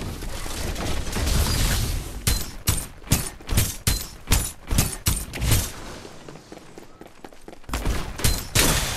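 Rapid bursts of gunfire in the video game Farlight 84, a rattling fusillade of close, loud shots in quick clusters with brief pauses between volleys.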